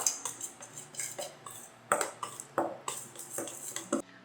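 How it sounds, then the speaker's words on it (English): Protein powder and baking powder are mixed in a bowl with a utensil, making a run of quick, light clinks and scrapes in an uneven rhythm. The sound is close and fairly quiet, with no voices. "Let's mix it all together."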